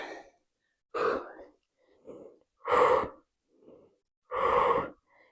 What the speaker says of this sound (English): Breathing out on the way up.